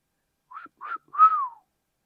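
A person whistles three short tones close by, each a bright pitched note bending downward, the last one longest and loudest, with silence between them and no other sound.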